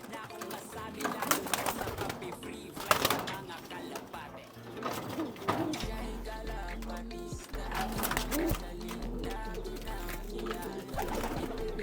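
White pigeons coo in soft, repeated throaty calls at close range, while someone talks over them and faint rustling and handling noises come and go.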